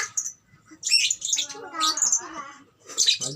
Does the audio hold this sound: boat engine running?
no